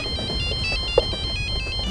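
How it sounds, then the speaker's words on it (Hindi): A mobile phone ringtone plays a repeating electronic melody of short tonal notes, steady and moderately loud, with no one speaking. "पका दिया इस आशीष ने मुझे फोन करके।"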